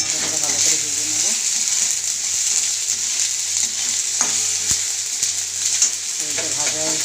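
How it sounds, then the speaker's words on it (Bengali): Spices fry with potatoes and ginger in a pan, a steady bright sizzle running throughout with occasional scraping stirs and light clinks of a spoon. "মশলাটাকে ভালো করে ভেজে নেবো।"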